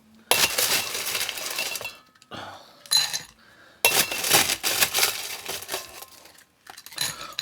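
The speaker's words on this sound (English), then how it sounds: "put some more ice in" Ice cubes tumbling into a cocktail glass, bright clinking and rattling in two loud bursts with brief pauses, close by and with no voices.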